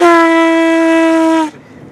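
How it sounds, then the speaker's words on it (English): A boat's deep, loud horn blast sounds steadily for about a second and a half, then stops abruptly, leaving quiet background noise. "We gotta sound the official horn"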